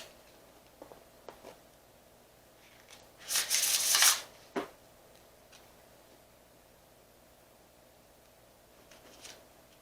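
A brief, soft riffle of tarot cards being shuffled, one quick burst followed by a tap, in an otherwise quiet room.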